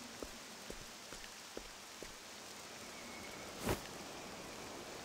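Video game rain from Octopath Traveler 2 falls as a steady hiss with several light spattering drops early on and one sharper splash near the end.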